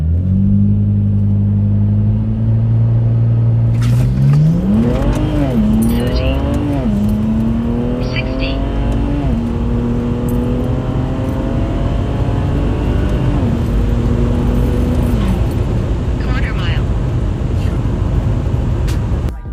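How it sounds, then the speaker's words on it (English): BMW E9x engine idling while warming up on a cold day, with a steady low drone, a couple of throttle blips that rise and fall, and then a settled, smooth idle running close by. "We're just warming up the car, pretty much just waiting for it to get up to temp"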